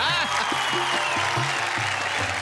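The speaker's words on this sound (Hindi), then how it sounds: "भाई तालियां क्या तारीफ की इनकी जरा" Studio audience applause on a Hindi TV comedy show, a steady broad wash of clapping running the whole time, with a voice speaking and singing over it.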